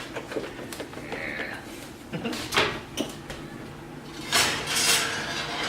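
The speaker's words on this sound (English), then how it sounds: "I'm gonna go ahead and pull the lovely smelling peppers out of the oven." Baked stuffed peppers come out of a home oven with clanks of metal pans, a door being handled and light knocks of kitchenware, moderately close, with soft rustling between.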